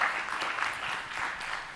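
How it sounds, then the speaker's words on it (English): A small audience claps steadily at a talk or conference session, an even, moderately faint patter of applause without voices. "Applause, please."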